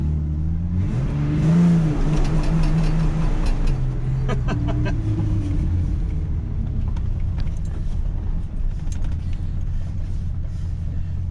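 A low-mileage Ford F250 pickup truck doing a burnout, its engine revving loud and close in a sustained roar that rises early and then holds a steady, rumbling drone with tire noise mixed in.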